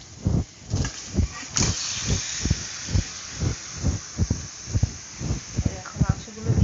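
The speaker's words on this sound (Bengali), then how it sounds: "এই যে এখন এই তেলের মধ্যে মাংসগুলো দিয়ে দিচ্ছি" Chunks of meat drop into hot oil over fried onions and a broadband sizzle rises and holds, with rhythmic scraping or stirring beats beneath and a voice talking throughout.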